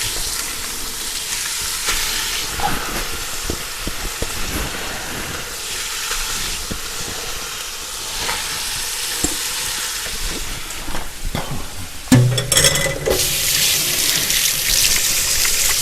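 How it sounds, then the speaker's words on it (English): Meat browning in a pan for beer chili gives a steady, loud sizzle and hiss, with occasional scraping stirs and a sudden louder burst of frying near the end. "first by browning our meat."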